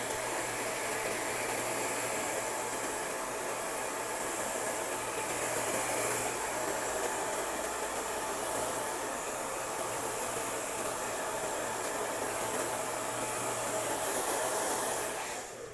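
A hair dryer blows continuously at close range during a haircut, a loud steady whooshing hum that barely changes for the whole stretch.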